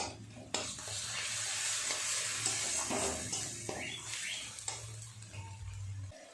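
Ground spice paste of turmeric, cumin, coriander and dried chili being stirred and fried in a pan for a tangra fish curry, with a steady sizzle, scraping strokes and occasional clinks.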